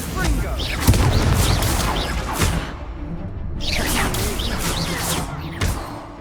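A Confringo spell in Hogwarts Legacy gameplay bursts out as a fiery blast amid continuous booming, whooshing combat effects and a game score, a loud, dense wash of sound with repeated swells.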